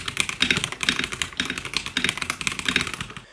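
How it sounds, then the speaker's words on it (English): Rapid typing on a mechanical keyboard with red switches, close and clear, with uneven bursts of soft clacking keystrokes and short pauses between runs, no voices. "here is a typing test so you can see how it sounds"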